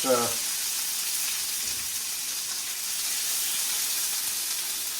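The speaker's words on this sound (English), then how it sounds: "So we're going to go in with our onions, and I'm going to cook these." Onions hiss and sizzle steadily in a hot pan at the start of a stir-fried cabbage with fennel seed dish, a continuous frying wash after a brief low voice at the very beginning.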